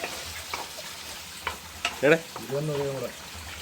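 Small shallots frying with a little salt in a pan for country chicken curry, a soft steady sizzle under scattered stirring scrapes and knocks, with a brief voice-like murmur near the end.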